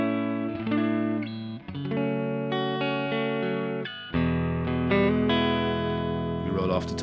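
An electric guitar with a clean tone plays through an amplifier, with ringing chords and single notes changing every second or so, clear and fairly quiet with reverb.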